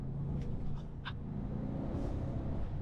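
A Bentley Brooklands is driven in manual gear, with a steady low engine rumble and road noise from inside the cabin and a few faint clicks on top.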